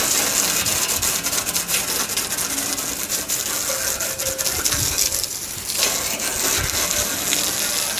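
Water gushes and sprays steadily onto a 6.0 Powerstroke metal part being rinsed of metal prep, with some rubbing and clattering, hissing continuously without speech.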